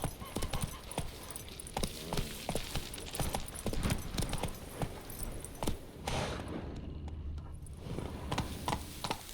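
Roach, Geralt's horse in The Witcher 3, gallops with a rapid, continuous clip-clop of hooves close by, loud and rhythmic, briefly easing near the end.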